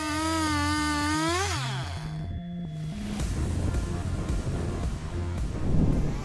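A Stihl-type MS661 chainsaw cuts large poplar logs into smooth boards and slats, its engine whining and revving up before settling into a loud, steady, rough cutting roar.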